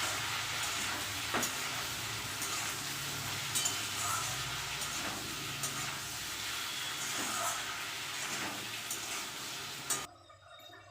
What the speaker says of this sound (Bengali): চিংড়ি মাছগুলো নুন হলুদ মাখিয়ে রেখেছি এবার আমি ভেজে নেবো